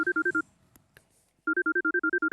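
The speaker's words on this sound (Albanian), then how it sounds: "Po i bi telefoni." A phone ringtone, a loud electronic warbling trill in rapid even pulses, breaking off for a moment of faint background noise before ringing again.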